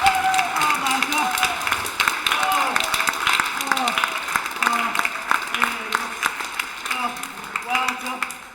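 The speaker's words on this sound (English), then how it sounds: "There's a round of applause for James." A small group applauds steadily for several seconds, the clapping close and continuous, with voices speaking over it.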